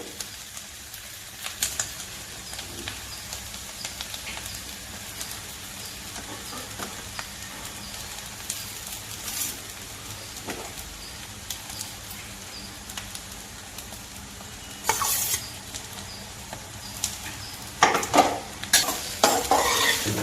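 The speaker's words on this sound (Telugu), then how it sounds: "ఇలా ఫ్రై అయిపోయిన తర్వాత ముందుగా మనం ఉడికించి పెట్టుకున్న అన్నం వేసేద్దాం ఇప్పుడు" Cooked rice is tipped into a frying egg masala and stirred in a pan, with a soft continuous sizzle under scraping and clinks of a spatula against the pan that grow louder and busier toward the end.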